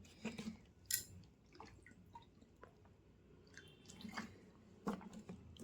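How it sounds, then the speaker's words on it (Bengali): Quiet, close sips and gulps of drinking water, with small wet swallowing and mouth sounds spaced irregularly over a faint background. "এবার এক সেকেন্ড জল খেয়ে নি।"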